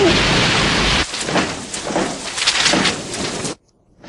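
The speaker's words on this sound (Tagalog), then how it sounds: "Nagsama ka ba dito ng bagyo?" Heavy rain pours down in a thunderstorm, a dense loud hiss with a deep thunder rumble at the start and gusty swells, cutting off abruptly into near silence.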